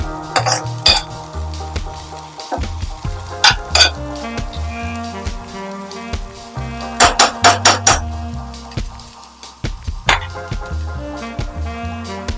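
Okra (ladies finger) is dry-roasted in a pan, with loud repeated metallic scrapes and clanks of a spatula stirring against the pan over a low sizzle, in irregular bursts; no talking.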